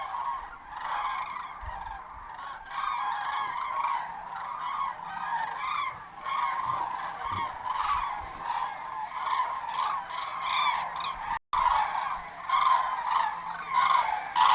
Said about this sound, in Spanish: estamos oyendo, ¿no?, el ruido que hacen las grullas